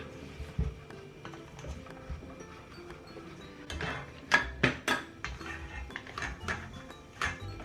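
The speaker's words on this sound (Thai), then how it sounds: "ตีแล้วให้แป้งเข้ากัน จะตีเร็วๆนะคะ" Flour batter whisked fast with warm thick coconut cream in a bowl for a butterfly pea layered dessert, quick irregular metallic clinks and taps against the bowl that grow busier and louder midway.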